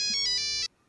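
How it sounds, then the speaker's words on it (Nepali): A phone ringtone for an incoming call plays as a loud, repeating melodic electronic tone in pulses, then cuts off abruptly and leaves near silence. "राजेश हमालजीको फोन आयो"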